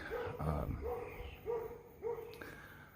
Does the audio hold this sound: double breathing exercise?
no